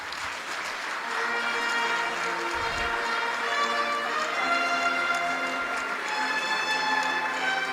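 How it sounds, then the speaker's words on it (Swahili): A large audience at a state ceremony where the president receives dividends from public institutions applauds, a loud dense sustained clapping that swells and holds throughout. "Makofi mengi sana."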